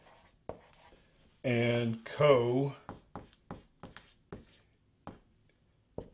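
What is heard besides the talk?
marker writing on a whiteboard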